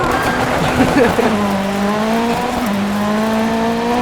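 Rallycross cars in DiRT 3 launch together at a race start, engines droning and rising in pitch as they accelerate away, with a brief tyre scrabble early on, loud and continuous.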